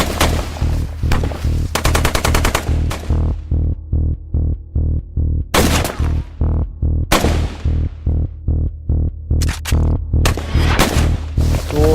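Bursts of gunfire during an Indian Army counter-militant engagement: sharp, loud shots in rapid strings of rounds alternating with single spaced cracks, close and dominant with no speech.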